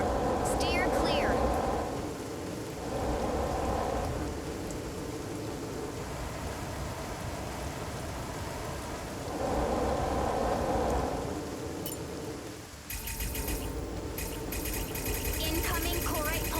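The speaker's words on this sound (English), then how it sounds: "Incoming Corite pulse storm. Steer clear." Pulse storm rumble and rain in the mech combat video game Mecha Break, a loud wash of rain noise with swelling thunder surges, under a voice and game sounds, ending with an abrupt change.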